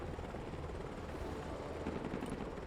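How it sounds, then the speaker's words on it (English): Helicopter in flight within the video game Broken Arrow, a steady, dense rotor drone holding at even loudness throughout, with no talk over it. "Helicopter is in the air."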